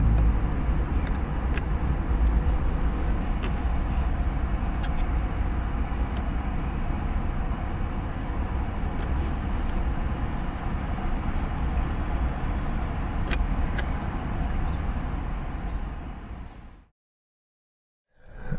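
A Volkswagen MK7 Golf GTI with DSG cruises along, a steady low road and engine rumble with occasional faint ticks and knocks that cuts to silence near the end.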